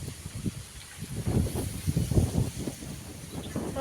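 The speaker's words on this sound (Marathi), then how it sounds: "वारा सुटलेला आहे रे बापरे." Strong wind blows outdoors during gathering rain, buffeting the microphone in irregular low rumbling gusts with a constant airy rush underneath.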